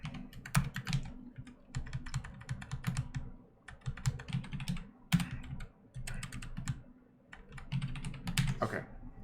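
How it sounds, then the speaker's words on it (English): Fast, irregular clicking of keys on a computer keyboard, close and continuous in uneven bursts with short pauses, during a computer science lecture livestream. "It's hard to type like tilted because my keyboard is this direction."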